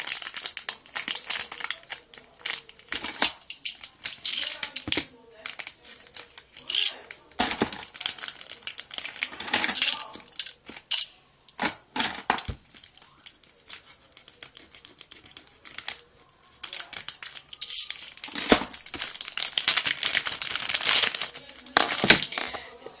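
Package of resin hardener being torn open and unwrapped, repeated crinkly plastic rustling and crunching in irregular close bursts with brief quiet gaps, no speech.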